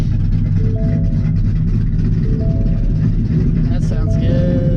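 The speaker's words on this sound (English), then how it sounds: "It definitely has that chop like you would have in an old school car." A cammed Ford Mustang with a Coyote V8 idles with a choppy, lumpy rhythm, a steady close-up engine drone that runs underneath people talking.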